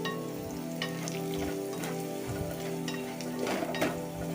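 Samosa filling with chili, turmeric, salt and red chili powder being stirred in a pan, giving a steady close sizzle and frying hiss with soft scraping strokes throughout.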